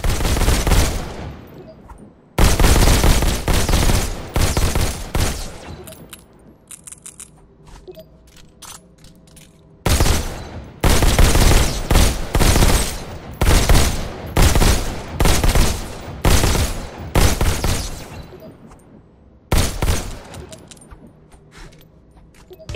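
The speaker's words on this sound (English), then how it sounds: "Just squeeze the trigger to shoot." Pistol gunfire in the VR shooter Robo Recall: loud, sharp bursts of shots arriving in clustered volleys with short gaps, heard alone without talk.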